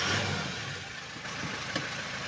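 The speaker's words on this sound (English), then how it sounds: "Let me start the vehicle." A 2024 Toyota Land Cruiser with a power steering fault, its engine running at a steady idle, a close mid-pitched hum and rumble with a small blip partway through, no voices.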